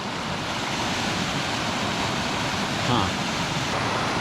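Steady broadband rush of Butterball Creek in Yosemite flowing nearby, a constant close wash of water with no pauses.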